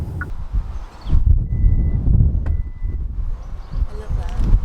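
A Hyundai Ioniq 5 72.6 kWh Premium Edition sounds a thin electronic warning beep during a test drive, heard briefly over road rumble and wind while people talk inside the car.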